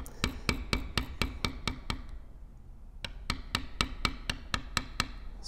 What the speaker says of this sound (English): So we're beveling away from the quill towards the outside, all the way up here.